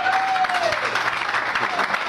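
A church congregation applauds to acclaim the Lord, with dense, sustained clapping and crowd noise filling the space throughout, steady and fairly loud.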